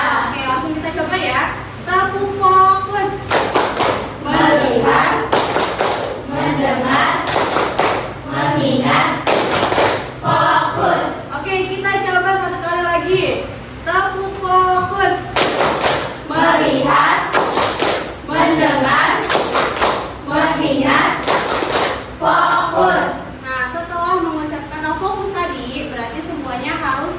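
A class does the Indonesian 'tepuk fokus' clap routine. Bursts of loud group claps in a set rhythm alternate with children and an adult chanting the verses, repeated several times.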